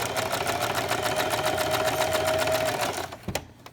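A sewing machine stitches a zigzag seam along the bottom edge of baby sleeper fabric, a fast even mechanical chatter for about three seconds before stopping, followed by a couple of handling knocks.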